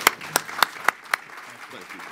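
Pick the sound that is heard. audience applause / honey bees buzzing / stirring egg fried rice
audience applause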